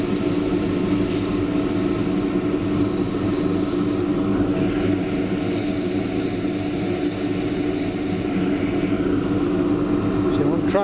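A small wooden dish spinning on a lathe while abrasive sands it, a steady close rubbing hiss over the motor's low hum, with someone talking throughout.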